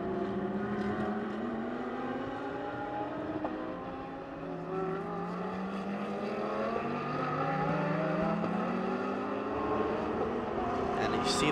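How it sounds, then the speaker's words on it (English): Ferrari and Lamborghini GT race cars roar around Sepang International Circuit in Malaysia, their engines rising and falling in pitch as they pass. A commentator talks over the distant, layered engine noise throughout. "It's just that these two iconic machines are going at it. Ferrari and Lamborghini."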